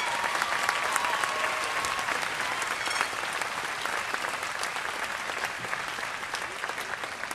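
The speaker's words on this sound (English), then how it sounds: "let's give all of those people a round of applause" Sustained applause fills a university undergraduate commencement ceremony, a dense, even clatter of many hands clapping from a large crowd that continues without break.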